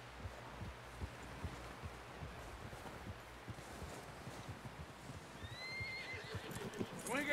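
A horse in Red Dead Redemption 2 snorts and whinnies over soft, irregular hoof clops, fairly quiet, with a rising whinny at the end.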